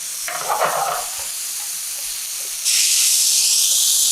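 Napolitan spaghetti stir-fried over high heat in a pan, a soft stirring scrape early on, then a steady loud sizzling hiss that swells and holds to the end, with no talking.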